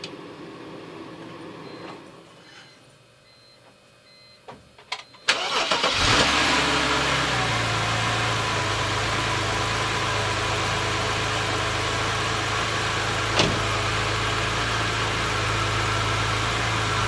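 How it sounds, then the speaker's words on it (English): After a few quiet clicks and clunks, a 2007 BMW X3 engine cranks and catches close by, then settles into a steady, even idle that holds for over ten seconds. "let's put back the cap and then let's start the car"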